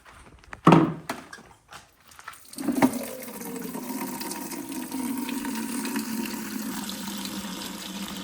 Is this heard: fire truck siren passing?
no